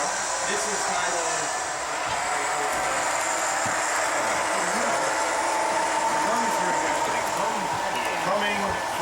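A model train running on a large model railroad layout, a steady mechanical whir and rolling hum with faint rhythmic clicks, continuous and moderately loud under background room noise.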